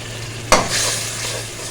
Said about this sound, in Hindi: मसाला हमारा बहुत अच्छे से भुन गया, ऑयल अलग हो गया बिल्कुल।